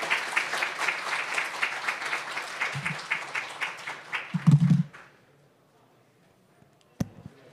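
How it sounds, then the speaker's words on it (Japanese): A conference audience at a Python talk applauds in a room, a steady round of many hands clapping that trails off into quiet. A few low thumps come near the end and one sharp knock follows the silence. "もう一度拍手をお願いいたします"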